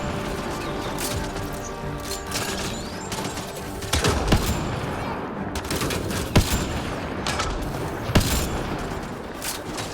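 Gunfire from the sci-fi video game Mass Effect Andromeda crackles in a combat scene, with a busy stream of shots, impacts and mechanical clatter punctuated by several louder bursts and bangs.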